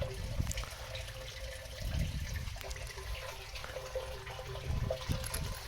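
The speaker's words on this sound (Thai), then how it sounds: "ผมจะขยับให้น้ำไหลผ่านตลอด" Water flows steadily through an eel tank, making a continuous close-up gurgling and splashing rush with small irregular bursts and no talking.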